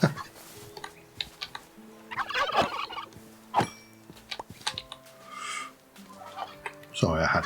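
Turkeys gobble in several rapid, rattling bursts in a homestead survival video game, near and loud, with scattered clucks and a voice talking between calls.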